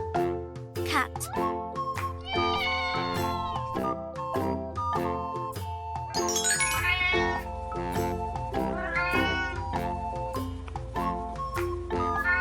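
A cat meows repeatedly over a continuous musical backing with jingling tones, as in a children's farm-animal sound lesson; the meows are clear and near, spaced through the passage.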